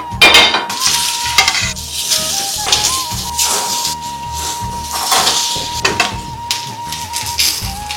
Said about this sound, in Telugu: బెంగా తవా ఫ్రై చేసుకుందాం రండి.